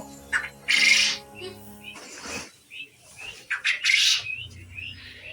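Two-month-old laying quails on a farm in Rangia, Assam give short bursts of chirping calls, several close and fairly loud, with quiet gaps between them.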